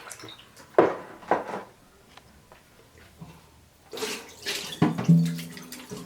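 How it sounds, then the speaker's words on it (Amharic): Water poured into a bowl of barley and teff injera batter, heard as splashy, gurgling bursts with quieter stirring sounds between them, close and fairly loud, strongest toward the end. "ይሄ ውሃውን ጨምሬ ጨርሻለሁ"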